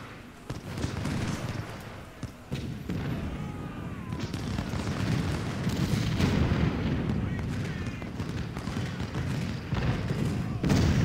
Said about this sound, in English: And now we'll fire at Burnham, of course. We'll just focus our fire